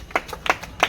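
A child claps hands in quick irregular strikes, three or four sharp close claps within a second at a village birthday party.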